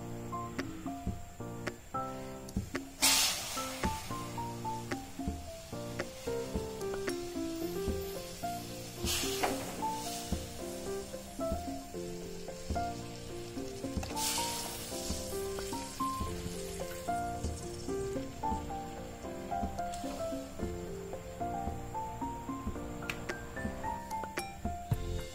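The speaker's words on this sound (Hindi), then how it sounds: "अब हम मक्खन से घी बनाएंगे" Butter melting down into ghee in a hot kadhai over high flame, a soft continuous sizzle and hiss with occasional louder bursts, overlaid by background music and no talk.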